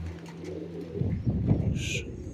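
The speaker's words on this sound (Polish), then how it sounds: "tu przylatują gołębie" Low, soft pigeon coos murmur close by at an aviary, with a brief higher chirp near the end.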